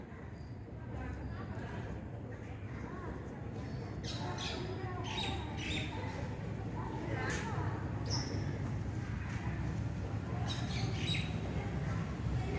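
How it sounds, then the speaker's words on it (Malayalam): Wild birds call outdoors, scattered chirps and squawks rising over a steady, noisy background and murmuring voices. "കിളികൾ വിളിക്കുന്ന ശബ്ദം കേട്ടോ"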